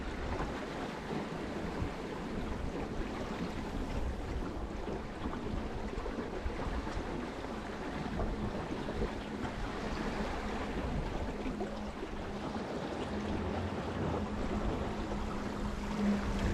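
A small boat runs through sea waves at about five miles an hour, producing a constant dense rush of water and wind noise with an engine drone underneath and no talk.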